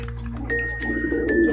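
A pigeon in a loft gives a short, low coo, heard close up over a steady background hum, with a faint ringing tone in the middle.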